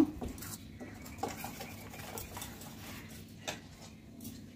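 Chicken chaap marinade with a few drops of mitha attar being mixed by hand in a bowl, giving soft, close patters, light clinks and faint scraping under a low steady background hum, with no talking.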